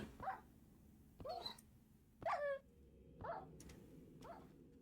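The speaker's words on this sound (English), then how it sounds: "Dog." A dog in Minecraft gives a series of about five short, separate barks or yelps, evenly spaced and fairly quiet over a low background hum.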